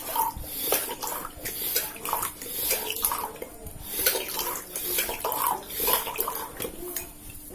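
Water from a Kenmaster electric drinking-water gallon pump flowing in an uneven, sputtering stream into a container, with a faint pump hum underneath and no talk.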